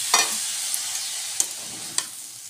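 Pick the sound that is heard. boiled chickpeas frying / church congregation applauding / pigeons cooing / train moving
boiled chickpeas frying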